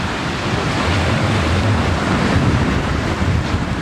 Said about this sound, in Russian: Задул ветер.